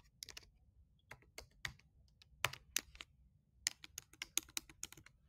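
Keys on a computer keyboard are typed in quick irregular bursts of crisp clicks, close and fairly quiet, with short pauses between runs of keystrokes.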